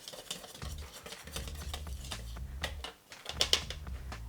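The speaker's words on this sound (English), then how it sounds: "I'm just going to give them a quick whisk." Dry baking ingredients, baking soda, salt and flour, being whisked in a bowl, a quick run of soft rhythmic clicking and scraping strokes, close and fairly quiet, with a brief pause before a final few taps.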